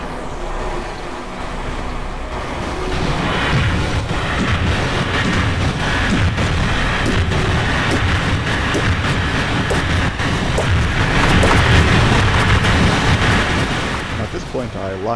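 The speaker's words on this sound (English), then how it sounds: "Once this paddle boat gets started, it's really loud." A loud, continuous mechanical roar of a running electric paddleboat engine in Kerbal Space Program, steady and droning throughout, with rough churning texture and no breaks.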